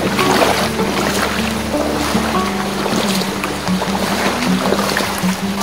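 Water splashes steadily and continuously as someone wades through a flooded street in Kolkata, with the water reaching about mid-shin. The churning sloshing is close and unbroken, with no voices.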